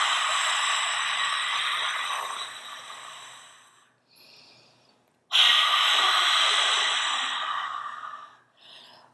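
Two long, forceful exhales pushed out through the back of the throat in the rasping Darth Vader breath, close and breathy, each tapering off, with a short quiet inhale between them.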